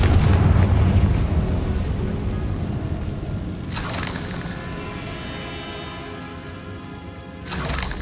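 A Confringo fire spell bursts in Hogwarts Legacy, a heavy booming blast that rumbles and fades over several seconds, with two sharper crackling flares of energy following it.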